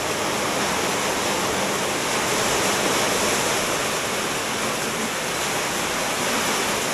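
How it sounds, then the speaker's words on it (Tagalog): Heavy rain pours down in a steady, loud, unbroken roar that fills the whole stretch, with no voices over it. "Ang lakas ng ulan."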